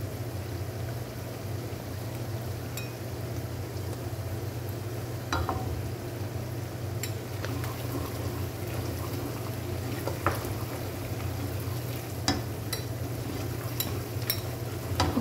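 Berbere spice sizzles steadily as it fries in a pan while lentils (misir) are being cooked, with a constant crackling hiss and a few faint clinks from stirring.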